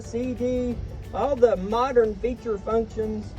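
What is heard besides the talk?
No everyday noise stands out behind the speech.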